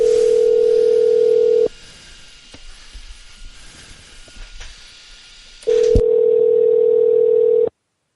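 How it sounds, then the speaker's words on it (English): A phone call goes out: a steady tone, then a quiet mechanical clicking stretch, then the tone returns and cuts off abruptly, all alone without talk. "we're going to call him up right now"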